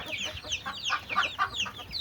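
Several free-range Turkish village chickens, a local breed, cluck and chatter in short, overlapping bursts nearby, a busy, uneven flock murmur with no talking.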